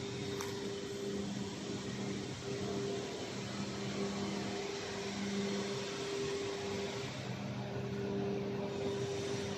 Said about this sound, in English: This is the dryer.